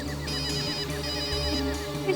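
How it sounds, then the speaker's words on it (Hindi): A mobile phone ringtone plays steadily in a repeating melodic pattern, fairly close and clear, with no talking. "ऋषभ का फोन वहां बज रहा है।"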